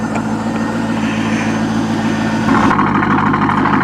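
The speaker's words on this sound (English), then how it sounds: "Just love that pitter-patter of that Corsa exhaust on this 98 Corvette." A 1998 Corvette with a Corsa exhaust idles close by, a steady low rumble that holds evenly for a few seconds with no talk over it.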